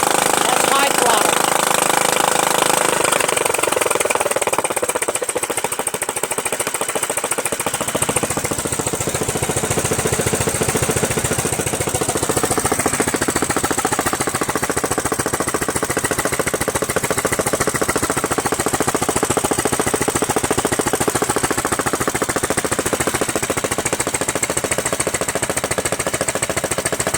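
A Kohler Command CV460S engine on a Craftsman LT1000 lawn tractor runs steadily at high throttle with its cover off, a loud, close, continuous mechanical roar and rattle throughout.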